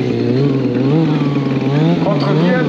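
A Kawasaki motorcycle engine revs loudly and continuously during a stunt wheelie at an outdoor show, its pitch rising and falling with the throttle, with crowd noise in the background.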